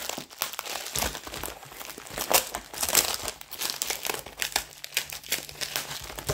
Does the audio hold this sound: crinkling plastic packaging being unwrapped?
yes